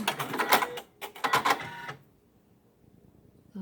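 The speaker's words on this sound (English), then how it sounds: "now I'm going to hit the trimmer button again just to make sure" Janome embroidery machine running its thread trimmer: a close mechanical whirring and clicking in two short bursts, then near silence.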